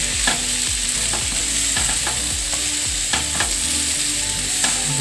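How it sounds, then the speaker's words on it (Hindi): Spicy garlic potatoes with green chilies sizzle and fry steadily in a pan while being stirred, with repeated scraping strokes over a constant loud crackle and no talking. "तो फिर से एक बार और चला देंगे इनको"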